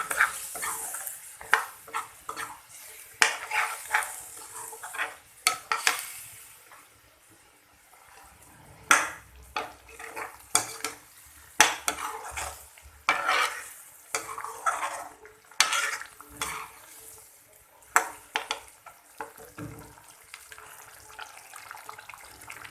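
A spoon stirs a spice paste mixture in a cooking pot, giving irregular scrapes, clinks and wet squelches that come and go in bursts against quiet gaps, close up with no talking.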